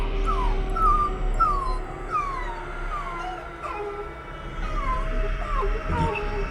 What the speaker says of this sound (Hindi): पास की झाड़ियों से कुत्तों के रोने की आवाजें आने लगी।